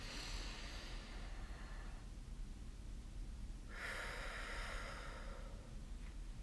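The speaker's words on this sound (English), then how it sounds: "pushing your lips together and actually just pushing it out" Two long, soft breaths hiss out through pressed lips, close and steady, separated by a short pause, during a calming breathing exercise.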